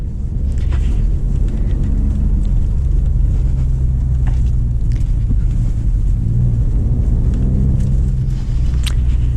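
A 2020 Ford Raptor pickup churns along a muddy off-road trail, giving a continuous heavy low rumble of engine and tires with faint squelches and no talking over it.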